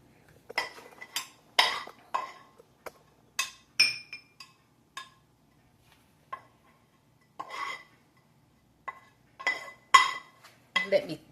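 Stir-fried garden squash is portioned onto plates, with a scattered series of close, sharp clinks and scrapes of utensils against dishes separated by short quiet gaps.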